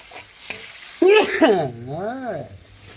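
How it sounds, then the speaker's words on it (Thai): Pork pieces sizzle and are stirred in a hot pan for Thai basil pork stir-fry, a loud close frying hiss with a brief tonal squeal or voice-like sweep in the middle. "ตามด้วยหมูชิ้นลงไปนะครับ ผัดให้สุกนะครับ ผัดไปเรื่อยๆครับ"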